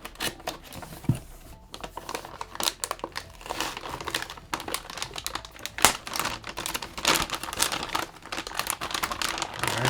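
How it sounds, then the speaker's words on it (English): Packaging for an MSI Ventus 3X 4070 Ti Super graphics card being handled and opened: continuous close crinkling of plastic and cardboard, with dense clicks, rustles and small crunches throughout. "let's first unbox the MSI Ventus 3X 4070 Ti Super"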